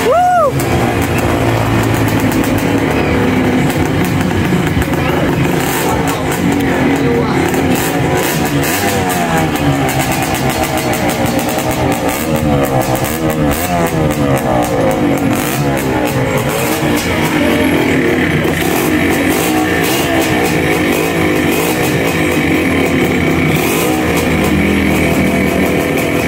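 A Yamaha DT125/175 motorcycle engine fitted with a new exhaust pipe runs loud and close, buzzing and revving steadily throughout with a harsh two-stroke rasp.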